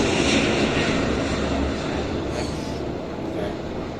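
An airplane at an airport gives a steady, loud, broad engine roar that holds for the full length, easing slightly midway, with no speech over it.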